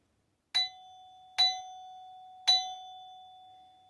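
Three struck bars of a 32-note glockenspiel, slightly dampened, each a bright attack ringing into a sustained pure note, spaced about a second apart, clear and alone.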